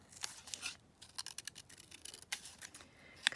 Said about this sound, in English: Just cut this one out.